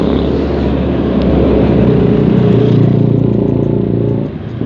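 A Yamaha Mio motorcycle engine runs loud and close at a high, steady rev, holding its pitch before easing off at the end.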